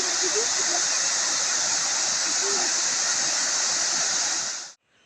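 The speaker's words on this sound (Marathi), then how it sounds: "गारगार पाणी असतं उन्हाला पावसाला पाणीच असतं सुरू" Water rushes steadily at a stream below the Bauddhwadi dam, a loud, continuous hiss and roar close by that cuts off abruptly near the end.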